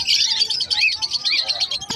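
Many small birds at a pet market chirp and tweet nonstop, their quick, overlapping high calls forming a dense, lively chorus close by.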